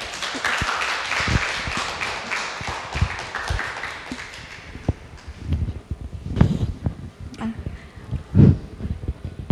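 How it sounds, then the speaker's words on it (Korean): An audience claps to welcome a novelist onto the stage at a book talk, a lively burst of applause that thins into scattered claps and rustling, ending with a few soft knocks. "여러분 큰 박수로 환영해 주세요"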